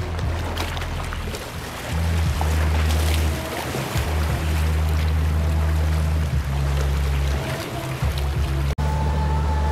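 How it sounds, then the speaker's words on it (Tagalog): A banana boat towed across the open sea, with a steady, close motor drone and rushing water running almost without a break, briefly dipping near the end. "Yung may banana boat oh."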